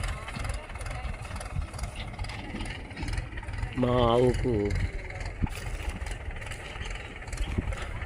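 A tractor brought to a field to haul fodder for a cow idles with a low, steady rumble throughout, while a person speaks briefly over it midway.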